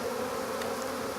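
Honey bees buzz at an open hive during a spring inspection, a steady, dense drone that fills the whole moment close by, with no talking.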